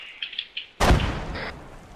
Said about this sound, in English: Frag out, frag out, take cover.